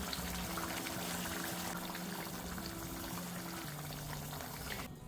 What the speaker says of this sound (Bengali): কোফতার গ্রেভি আমার ফুটে গেছে।